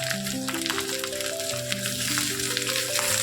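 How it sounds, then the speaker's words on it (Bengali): Okra frying in oil tempered with nigella seeds, a continuous close hiss of sizzling with occasional soft stirring, under a sustained tonal hum from the stove or kitchen. "এবার ঢ্যাঁড়সটা ভাজতে থাকবো।"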